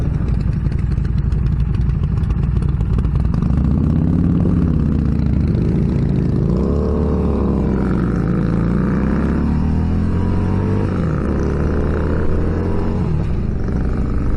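A 2019 Harley-Davidson Street Rod motorcycle engine roars loudly and continuously while riding, its pitch climbing and dropping as the throttle opens and gears change.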